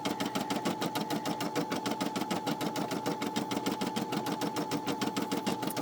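A Brother SE600 embroidery machine stitches felt with a fast, steady needle chatter and a rhythmic mechanical whir, close up and continuous, with no voices.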